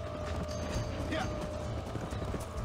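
Hoofbeats of a horse galloping in the video game Red Dead Redemption, a steady clip-clop rhythm over constant game ambience, with a voice talking over it.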